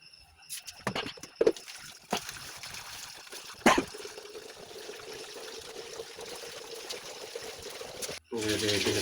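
Water running and trickling at close range as it is poured for a child's early-morning bath, a steady splashing flow with a few sharper knocks, then a brief pause before a louder rush of water.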